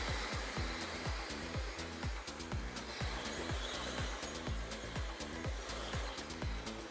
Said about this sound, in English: I'm drying this hair on the opposite direction back here because I want to create more like a more movement back here.